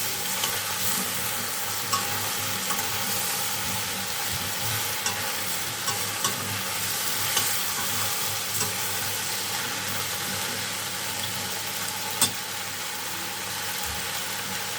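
Onion sautéing and sizzling steadily in a hot pan, with a continuous frying hiss and occasional stirring scrapes and clinks, close and fairly loud, with no one speaking.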